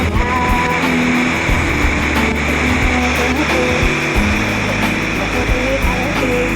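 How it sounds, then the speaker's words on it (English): Steady, dense rushing roar of falling water filling the whole clip, loud and continuous with no pauses. "The noise you can hear at the back is a waterfall."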